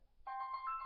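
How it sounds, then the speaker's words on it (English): A mobile phone rings mid-recording, its bright electronic tone cutting in abruptly after a short quiet moment and holding steady to the end. "excuse my phone, I can't believe I didn't turn my phone"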